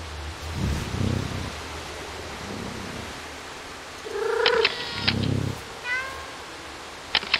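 Several clear meows from the cat in the cyberpunk city of Stray, a short cluster of harmonic cries rising and falling near the middle, with soft rustling and low thumps around them.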